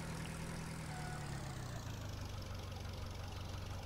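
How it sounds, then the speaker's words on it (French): A parked tractor idles in Farming Simulator 2013 with a steady, low, rumbling engine drone, even and continuous at low volume. "le tracteur, on va le ranger là"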